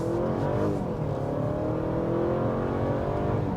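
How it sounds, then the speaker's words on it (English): A 2023 Honda Accord two-motor hybrid accelerating, its engine droning in a steady, rising tone that fills the whole stretch, heard from inside the cabin with no talking. "If you don't understand how Honda's 2-motor hybrid system works, you're like, I don't know, it's just accelerating like a car."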